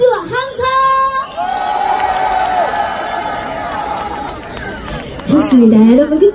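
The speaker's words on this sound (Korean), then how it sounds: "자, 그럼 이쪽도 박수와 함성!" Crowd at an outdoor park concert in Oncheoncheon Citizens Park claps and cheers loudly, with whoops rising near the end, while a singer's amplified voice and music carry over the noise.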